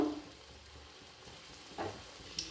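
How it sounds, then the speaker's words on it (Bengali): A Moghlai paratha fries in hot oil with a faint, steady sizzle and a few soft clinks or bubbles close by. "এরপর মোগলাই পরোটা তেলে ছেড়ে দিলাম।"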